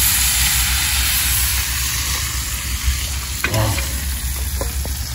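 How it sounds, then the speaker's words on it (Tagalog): Sardines sautéing in cooking oil make a continuous bright sizzle and hiss, close and steady, broken by a brief stirring clatter. A short spoken word is heard once. "magigisa na tayo ng ginisang sardina"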